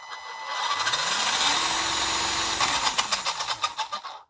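An FMS F100 High Roller RC monster truck accelerating under throttle, its electric motor whining up in pitch, holding, then winding back down with choppy bursts near the end.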